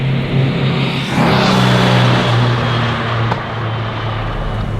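1956 Porsche 356 Speedster four-cylinder engine during a heel-toe downshift, a loud steady drone that dips and then rises in a quick rev blip before settling, heard from close inside the car.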